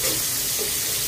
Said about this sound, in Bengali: আর মাছটা ভাজা হোক।